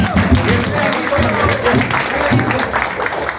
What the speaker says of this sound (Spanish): Fuerte los aplausos para Daniel del Bombo